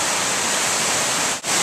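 Baker Brook roaring in the afternoon after Tropical Storm Irene in Williamsville, a steady, loud broadband rush of fast water that stays constant apart from one brief dip near the end.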